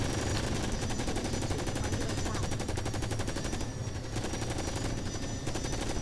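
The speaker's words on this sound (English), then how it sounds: "I'm being shot by the turret." Rapid turret gunfire in a video game, a fast continuous stream of sharp shots rattling on without pause, loud and close for the whole stretch.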